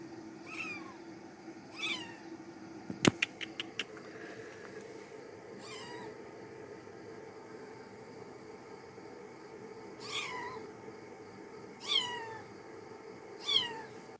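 A shy outdoor cat meows repeatedly, several short close calls spaced over a quiet stretch, with a soft steady hum beneath and a brief burst of sharp clicks early on; no voices.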